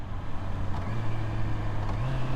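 Honda CBR650R E-Clutch motorcycle engine during a downshift, heard as a steady low drone under wind rush with the pitch stepping up near the end, no talk over it.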